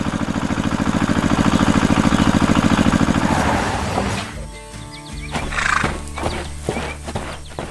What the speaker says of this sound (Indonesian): Kuda-kuda itu sedang bersenang-senang.